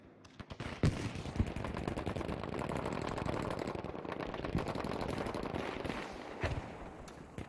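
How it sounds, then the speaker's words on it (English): Aircraft strafing run in Battlefield V on the Arras map, a loud sustained burst of rapid gunfire roaring for several seconds, preceded by scattered individual shots. "nice strafing run"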